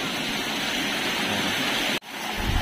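The Ulot River runs in a constant broadband rush of flowing water, close and full, with a brief dip near the end before the steady roar resumes.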